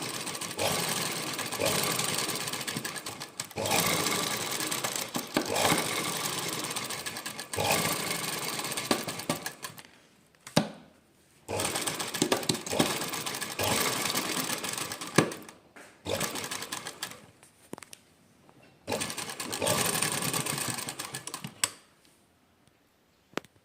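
A sewing machine stitches beaded work in steady, fast runs of rapid mechanical clatter, pausing briefly between bursts, with no talking.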